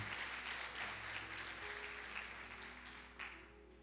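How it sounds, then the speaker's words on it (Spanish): A church congregation claps for the Lord during a Sunday service, fairly quiet and somewhat distant, a thin steady patter that tapers off with a brief louder burst near the end. "Dele fuerte un aplauso al Señor, por favor."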